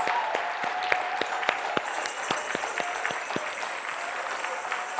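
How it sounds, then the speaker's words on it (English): Applause from a seated crowd at a pet-blogger awards dinner, a dense steady patter of many hands with a few sharper individual claps standing out, moderately distant and sustained throughout. "Let's give them a big round of applause."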